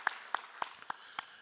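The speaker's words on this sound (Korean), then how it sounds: "우리 박수 한번 우리 권사님께 드리겠습니다" Five or six separate handclaps ring out in a slow, sparse rhythm, faint and reverberant inside a church during a Wednesday evening service.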